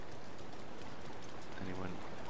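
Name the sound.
rain in the video game Zelda: Breath of the Wild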